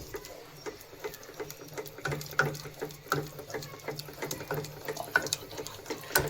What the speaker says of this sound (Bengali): এখন কর্নফ্লাওয়ার দিয়ে নাড়ছি।